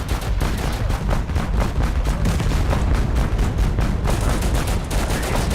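Mortar and artillery fire in the tactical shooter Total Conflict: Resistance sounds as a dense, continuous barrage of rapid overlapping blasts and reports, loud and steady throughout with no voices over it.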